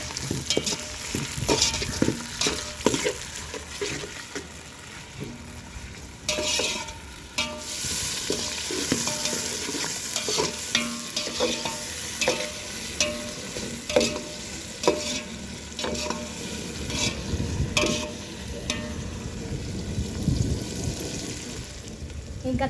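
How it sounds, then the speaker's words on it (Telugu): Tomatoes, green chillies, onions and cumin frying in oil, a steady close sizzle broken by frequent scraping stirs of a spoon against the pan, with a brief watery splash partway through. "టమోటా పచ్చిమిరపకాయలు ఉల్లిగడ్డలు ఇంకా జీలకర్ర అయితే నూనెలో బాగా మగ్గేవన్నమాట"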